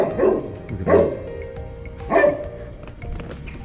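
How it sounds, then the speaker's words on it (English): A dog barks three times with pauses between, followed by a softer whimpering yip, fairly close against a steady background hum. "Dog."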